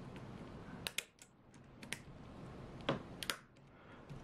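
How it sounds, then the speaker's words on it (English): A flathead screwdriver prying a key off an HP laptop keyboard: several sharp, close plastic clicks and snaps, spaced irregularly against a quiet background. "insert it below the key and apply gentle upward"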